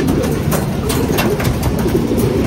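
Pigeons coo in a loft, a cluster of low, throaty, rolling calls repeating close by over a steady rumbling background.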